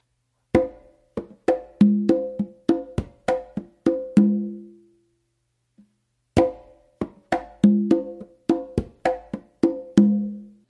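Congas and tumba play a samba pattern, a steady run of sharp hand strokes with ringing open tones, then a brief pause before the pattern repeats, close and loud with no talking.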